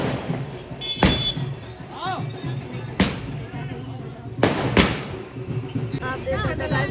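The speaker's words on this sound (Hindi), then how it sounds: "आप देख सकते हैं गाइस पटाखे चल रहे हैं" Firecrackers go off at a wedding celebration, with sharp loud bangs at irregular intervals, a couple of them close together, over a background of crowd noise and voices.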